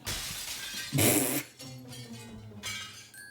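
Bubsy shattering in the video game Bubsy 3D, a sudden bright burst of breaking glass that lasts about half a second, set against game music with no talking over it.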